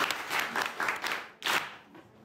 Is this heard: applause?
yes